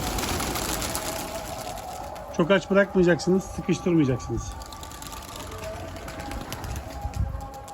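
Pigeons coo softly in the background of a loft among buildings at dusk, while someone talks briefly over them in the middle.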